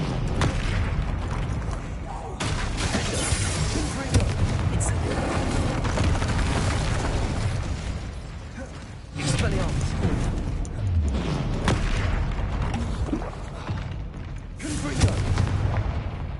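Confringo and Incendio spells cast in a PS5 wizarding video game produce repeated booming blasts and fiery bursts, loud and close, with a few sharp impacts separated by short lulls.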